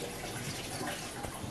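Water running steadily into a basin while quilts are washed by hand, a constant close splashing wash with no voices.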